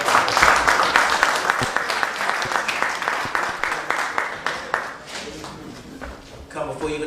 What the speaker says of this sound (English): can y'all give a round of applause to Chip Jabari?